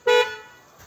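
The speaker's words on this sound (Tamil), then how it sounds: "அப்புறம் ஹார்ன் வந்து போட்டிருக்கோம்." A short single honk from an aftermarket car horn fitted on a Tata Punch, loud and close, lasting about a fifth of a second and then fading, with a faint second blip shortly after.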